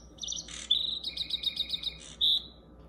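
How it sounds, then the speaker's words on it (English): Recorded birds chirping alone: a quick run of high, bright tweets and trills, followed by a short sustained whistle near the end, moderately loud over a quiet background. "like the sound of birds chirping."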